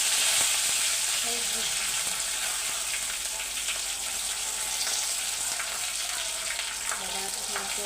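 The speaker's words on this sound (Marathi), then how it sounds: "थोडा कढीपत्ता आणि थोडी कोथिंबीर घेते बघा भाजून" Curry leaves and coriander roasting in a hot pan produce a loud, continuous hissing sizzle with faint stirring scrapes, steady throughout and without talk.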